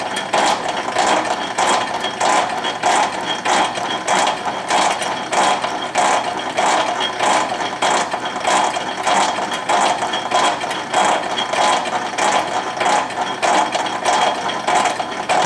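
A Rhodes metal shaper takes a trial cut on a workpiece, giving a steady, loud mechanical clatter with a regular rhythmic pulse from the ram strokes, continuous throughout with no talking.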